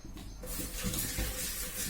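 Clean water pours steadily into a clay pot, a continuous close splashing and gurgling rush that starts after a brief quiet moment and keeps going to the end.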